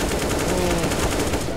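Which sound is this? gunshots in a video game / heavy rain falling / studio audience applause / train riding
gunshots in a video game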